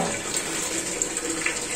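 Cold tap water runs steadily over boiled cauliflower in a strainer, giving a continuous close splashing rush with no talk.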